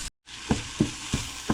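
Minced garlic and onion sizzling in a pan, a steady frying hiss with several soft spatula stirs or scrapes at an even rhythm after a brief gap.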